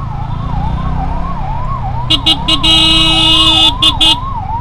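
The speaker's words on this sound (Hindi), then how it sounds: "ओहो भाई एम्बुलेंस फंस गई है।" An ambulance siren wails in steady rising-and-falling sweeps while stuck in heavy traffic, with car horns honking in short bursts and a continuous engine rumble beneath.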